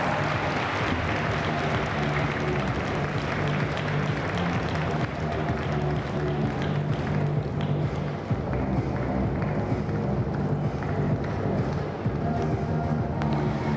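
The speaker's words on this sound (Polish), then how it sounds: "I wielkie brawa dla Neli i konia Topas." A large arena audience at the Cavaliada Tour equestrian vaulting competition in Poznań applauds rider Nela and the horse Topas, a dense, steady roar of clapping and crowd noise that carries on unbroken for about fourteen seconds.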